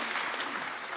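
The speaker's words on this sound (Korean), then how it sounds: "박수를 치시고 싶으시면 치십시오" A brief moment of audience clapping at a church choral music seminar, a short, steady wash of many hands with no voices over it.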